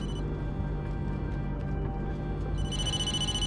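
A phone rings in the Blair Witch video game, a steady electronic ringing held at moderate level over a low droning ambient bed, with no talk.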